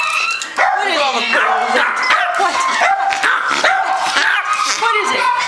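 Pug barking in short yappy bursts with whimpers and yips, close by, with excited voices talking over it throughout.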